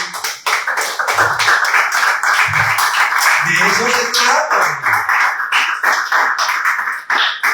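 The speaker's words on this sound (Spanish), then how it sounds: "¿Quién le da un aplauso al Señor?" A church congregation claps along steadily while a preacher keeps talking over the rhythm, the clapping close and sustained throughout.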